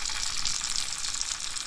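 Turmeric, chili powder, coriander and cumin sizzle steadily in hot oil in a kadai, a close, continuous bright frying hiss with no voices while making a tendli (ivy gourd) sabzi masala.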